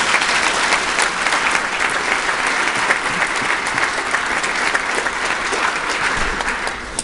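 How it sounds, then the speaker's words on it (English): An audience at a graduation ceremony gives steady, sustained applause, many hands clapping in a dense, even wash that fills the hall for several seconds without a break. "let's give them a round of applause for being with us today"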